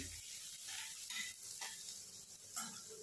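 Garlic with chili, coriander powder, asafoetida and turmeric sizzles in a frying pan while being stirred, a steady soft hiss broken by light scraping strokes, close and fairly quiet.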